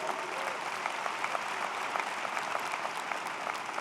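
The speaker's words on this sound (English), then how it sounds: "Give poetry a round of applause" A college commencement audience applauds poetry, a broad steady roar of many hands clapping at moderate volume, with occasional sharper claps poking through.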